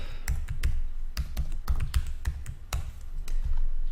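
Password being typed on a computer keyboard: a steady run of sharp, close key taps in an irregular rhythm, with no voices.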